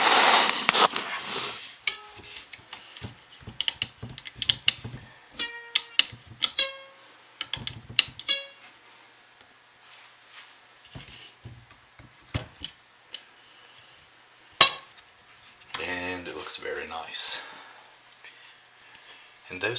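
Bergamot-scented all-natural soap is sliced into bars, giving a series of soft, close knocks and ticks as the blade goes through and meets the board, with scattered brief clicks and pauses between cuts.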